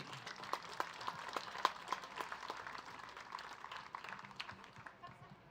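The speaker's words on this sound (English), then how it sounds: "go ahead and give all our steer exhibitors out here a good round of applause" A round of applause for steer exhibitors at a junior livestock show, as a scattered crowd claps quite softly from a distance for several seconds.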